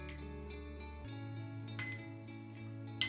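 A spoon stirs a spoonful of glycerin into cold milk in a glass, giving a few light clinks against the glass over a steady background hum, with a sharper chink at the end.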